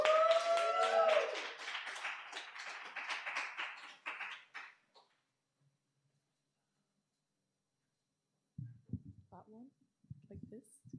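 Audience at a spoken-word festival clicking fingers and clapping, a dense patter of quick claps for several seconds that fades to silence, followed by speech later.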